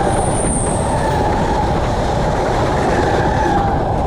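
The 13187 Ma Tara Express rolls steadily along the rails from Naihati toward Bolpur, a loud continuous rumble with wheel noise and a faint high squeal early on, heard from inside the moving train.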